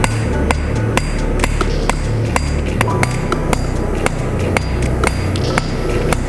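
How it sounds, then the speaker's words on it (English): Repeated metallic hammer strikes on steel ring out at a steady rhythm while hand-forging a knife bevel, each blow a sharp clink over a constant background roar. "I want to come near the step as I forge that bevel, that way my hammer has clearance"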